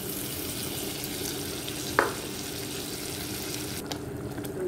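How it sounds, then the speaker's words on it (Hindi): Tomato puree hitting a hot pan for rajma gravy, a steady sizzle with one sharp clink or stir midway, close and continuous with no talk. "अब हम ऐड कर लेंगे टोमेटो प्यूरे"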